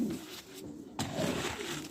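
Pigeons kept in a loft coo in low, soft rounds close by, with a brief gap of quieter rustling midway before the cooing resumes over a steady murmur of activity.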